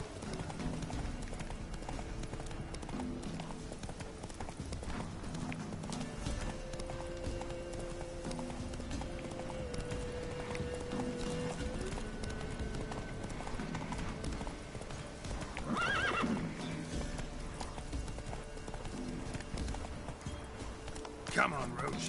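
Roach the horse gallops in The Witcher 3, with steady rhythmic clip-clop hoofbeats and an occasional neigh over game ambience, while a voice talks over it.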